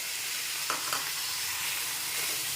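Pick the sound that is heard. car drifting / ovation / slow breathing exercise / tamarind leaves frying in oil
tamarind leaves frying in oil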